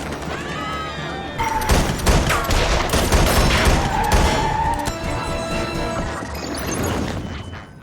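Rapid bursts of gunfire and crashing impacts from a Person of Interest TV episode, loud and dense for several seconds without pause, with no one talking over it.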